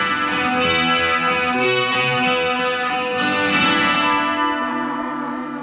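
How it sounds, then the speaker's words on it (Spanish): An instrument played through distortion and chorus effects gives a sustained, loud, buzzy tone with shimmering, rich harmonics. It holds steady for several seconds with faint ticking on top, and no one speaks. "Con la distorsión no molesta."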